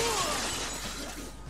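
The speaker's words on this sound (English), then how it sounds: "I just fucking smashed the window." Window glass smashing in the video game Dead Rising 2, a loud bright shatter that decays into scattered tinkling debris over about a second and a half, with game music faintly underneath.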